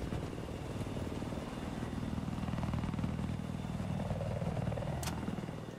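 Helicopter in the video game Battlefield 4, a steady continuous rotor and engine drone held close and loud throughout, with a brief higher-pitched whine near the end.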